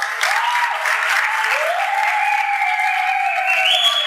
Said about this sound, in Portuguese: Palmas para fechar!